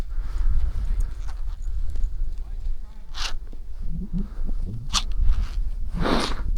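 Young horses' hooves clip-clop on hard ground at close range, with a few sharp clicks and brief rustles mixed in.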